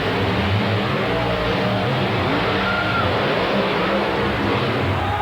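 Dennis Anderson's Chevrolet Gravedigger monster truck roars with a steady, loud engine drone at a 1989 indoor arena event, the sustained rumble filling the hall without pause.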